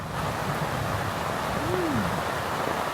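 Rain falls outdoors in the forest at Srinakarin Dam as a steady, even hiss with no breaks. A brief low tone rises and falls once partway through.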